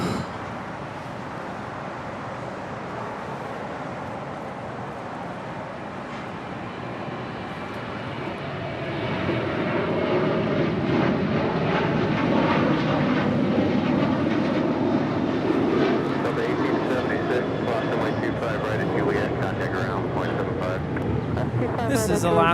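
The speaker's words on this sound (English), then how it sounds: "This is Alaska Airlines 1452 departing to Las Vegas on a 737-900 ER" An Alaska Airlines Boeing 737-900ER jet departs LAX, its engine roar swelling from a steady distant rumble to a louder, rougher thrust, with people talking over it.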